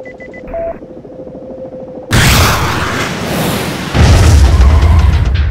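A bridge blown up in a video game: a few electronic beeps, then a sudden loud, sustained blast with roaring debris, and a second heavy surge of rumble partway through.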